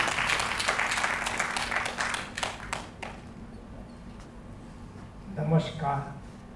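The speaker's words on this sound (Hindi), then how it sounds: "जोरदार तालियों से" Loud applause from a theatre audience for a speaker at a stage event, dense clapping for about three seconds that fades, with a brief renewed burst near the end and voices mixed in.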